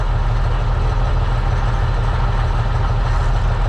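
A 1972 Autocar heavy hauler truck idles steadily, its diesel engine giving a deep, continuous low rumble that stays loud and even throughout with no talking.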